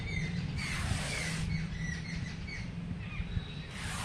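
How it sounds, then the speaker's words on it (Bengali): Many birds chirp and call as they feed, with repeated high tweets scattered over a steady low background rumble and no voices. "অনেক পাখি আওয়াজ করছে, ওরা খিদে পেয়েছে,"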